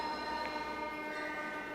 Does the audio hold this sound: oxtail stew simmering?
no